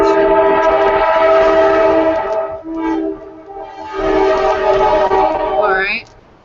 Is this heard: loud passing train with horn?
yes